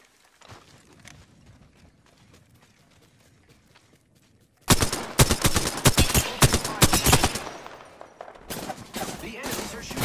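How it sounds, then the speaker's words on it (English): Enemy gunfire in the shooter Apex Legends erupts after a quiet stretch of faint footsteps, with rapid loud volleys of automatic shots crackling close by, a short pause, then another burst. "The enemies are shooting me"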